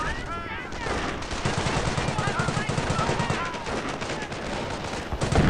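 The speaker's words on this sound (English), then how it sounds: "open fire!" Dense machine-gun and rifle fire rattles continuously through a World War II battle in the strategy game Company of Heroes Mobile, loud and sustained with rapid bursts layered over one another.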